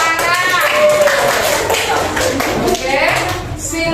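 Students clap in a classroom lesson, a fairly loud, continuous patter of hands running the whole clip while a voice talks prominently over it.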